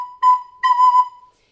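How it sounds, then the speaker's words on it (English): Recorder notes tongued with a crisp t articulation give two clean, sharply started tones on one pitch, the second held longer, heard close and alone. "that produces a clean, crisp sound like this."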